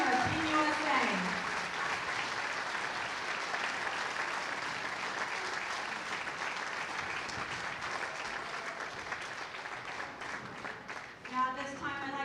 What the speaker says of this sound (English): How about another great big round of applause from the 2017 Junior Team USA.